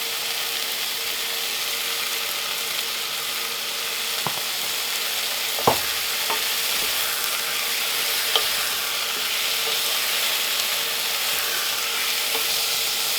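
Steak for a steak and ale pie browns in a hot pan, with a steady close sizzle broken by a few sharp clicks and scrapes from the utensil.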